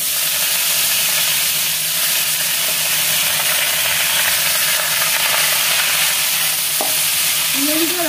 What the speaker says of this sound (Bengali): আমি শাকগুলো দিয়ে দিচ্ছি